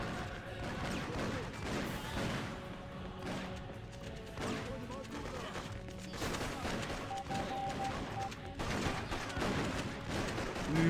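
Battle gunfire in the video game Freedom Fighters, a dense stream of shots and crashing impacts mixed with game music and background noise, steady and loud throughout the stretch.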